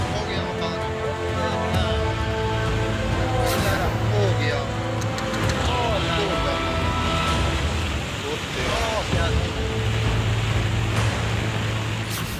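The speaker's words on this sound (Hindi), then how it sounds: "पानी का शोर बता रहा है कि बहाव कितना भयानक है।" Floodwater from heavy rain in the Himalayan region of northern India roars continuously, a broad turbulent wash with wind buffeting the microphone and faint voices in the background.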